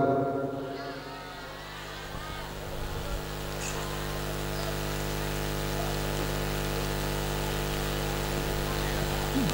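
Steady rain falls as a light drizzle, a constant even hiss with a low hum beneath it, filling the scene without pauses.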